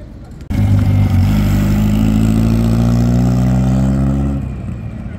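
Toyota 2000GT at an outdoor car festival at a roadside station, its engine starting up loud and near, holding a steady, rich running drone for several seconds before easing off.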